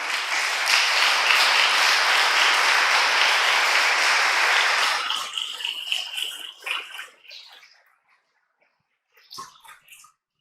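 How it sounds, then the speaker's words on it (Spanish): A church congregation applauds during Mass in a dense, steady roar of clapping for about five seconds, then it thins into scattered claps and fades to silence, with a few faint sounds near the end. "Ese es el aplauso para él"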